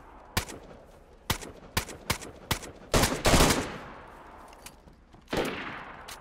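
Gunfire in the survival game DayZ: several sharp single shots spaced irregularly, then a short dense burst around the middle and another loud shot near the end, fairly close and with no speech.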